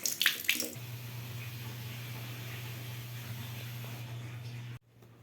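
Tap water runs steadily for a face wash in a home sink, a continuous close splashing flow with brief splashes at the start, then cut off abruptly near the end.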